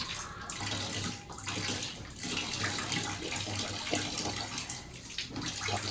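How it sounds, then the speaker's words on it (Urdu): Running tap water splashes continuously as water is drawn into the nose three times during wudu ablution, close and steady with intermittent spattering and no speech. "اس کے بعد 3 مرتبہ ناک میں پانی ڈالیں گے۔"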